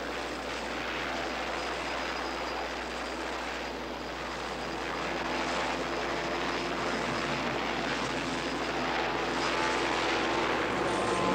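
A helicopter flies overhead in a steady, droning engine and rotor roar that swells slightly louder over time, heard from inside or nearby with no voices.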